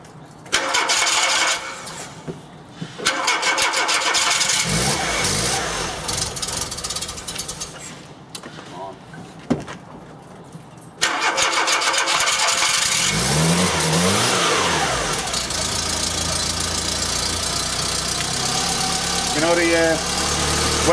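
A Mk2 Volkswagen Golf engine with a Weber carburetor conversion cranks and catches, then settles into a steady, loud idle with some mechanical rattling and clicking throughout.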